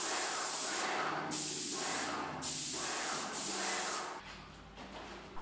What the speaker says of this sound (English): I opted to use an airless sprayer to paint the ceilings